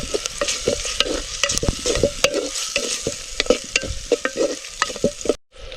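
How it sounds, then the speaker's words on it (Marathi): A spoon stirs a chilli-powder tempering frying in a clay pot, with repeated scraping strokes over a steady sizzle close up, then a sudden brief stop. "हे आपलं मातीचं भांड असल्यामुळं मला पटकन थोडंसं हलवावं लागतं"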